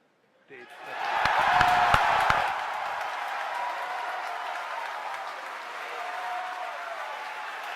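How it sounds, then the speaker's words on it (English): Cheering and applause swell at SpaceX headquarters during a crew capsule demonstration launch, a loud crowd roar that rises sharply, peaks with sharp claps, then holds as a sustained wash of clapping and cheers. "As you can hear from the cheering here at SpaceX headquarters"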